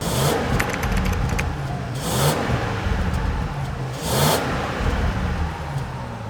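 A supercar's engine revs through its factory exhaust with the valves open, giving two sharp throttle blips a couple of seconds apart over a steady idle rumble, close and loud, with no voices.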